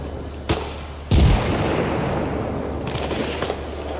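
Heavy gunshots ring out in ARMA Reforger during suppressive fire, with a sharp report, then a louder close blast followed by a long rumbling echo, and a fainter shot near the end.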